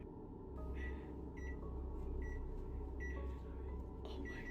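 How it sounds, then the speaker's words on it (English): A microwave oven sounds off with a series of short electronic beeps, as if its buttons were being pressed, spaced irregularly over a steady low hum in a quiet room. "the microwave sounds as if someone is pushing its buttons"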